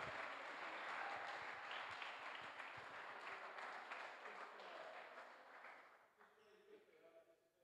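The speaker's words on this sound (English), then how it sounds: "Big round of applause, please." Sustained audience applause at a squash league match for Nick Matthew, a dense crowd of clapping that holds steady for several seconds before thinning out and fading toward the end.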